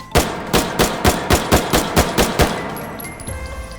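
Rapid, evenly spaced shots from a stripper-clip-loaded top-loader rifle in the VR game H3VR, about ten loud close reports in a steady rhythm, then a brief mechanical click and quiet.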